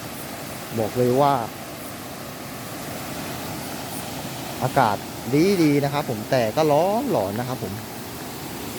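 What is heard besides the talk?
waterfall on a mountain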